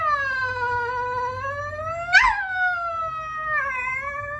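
Drawn-out, wavering cat meows, one long yowl followed by a shorter cry, close and clear with a faint low hum beneath.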